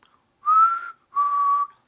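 A person whistles two sustained, slightly rising notes in imitation of Negan's tune, clear and close, with a brief pause between them.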